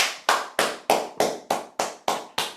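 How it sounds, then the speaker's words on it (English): Online meeting participants clap in a run of nine evenly spaced, crisp single claps, each with a quick ringing decay, steady and mechanical in rhythm with no voices. "let's give him a round of applause"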